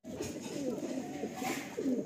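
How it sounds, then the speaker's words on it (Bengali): A Madrasi pigeon, a female, coos softly in a loft, with low throaty rolling coos repeating over a couple of seconds under faint background talk. "এটা মাদি পায়রা আছে"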